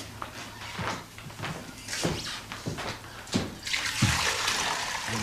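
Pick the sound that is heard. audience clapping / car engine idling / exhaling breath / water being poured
water being poured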